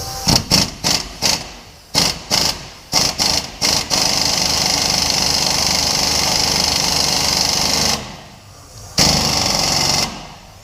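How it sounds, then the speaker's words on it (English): An impact gun drives a car suspension part, likely a control arm, into place: a string of short rattling bursts, then one long loud hammering run, a brief pause and another burst, close and alone. "So we got our impact gun on here, we're gonna watch this thing go in."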